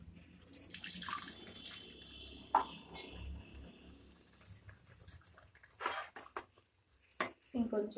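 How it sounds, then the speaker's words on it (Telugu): Tamarind water poured into a fish curry with fried masala, splashing in irregular bursts with clinks of a vessel, while a person talks quietly in between. "ఇప్పుడు మనం చింతపండు తీసుకున్నాం కదా, ఆ వాటర్ ఇలా తీసుకొని వేసుకుందాం."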